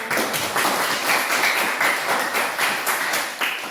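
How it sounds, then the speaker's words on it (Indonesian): Students in a classroom clap for classmates present, a quick, somewhat rhythmic patter of hands close by, sustained for a few seconds with a slight fade at the end. "Baik, tepuk tangan dulu buat kalian yang hadir."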